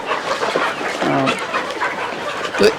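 Fayoumi chickens cluck on a farm, with several short calls rising over a busy outdoor background and one louder squawk near the end.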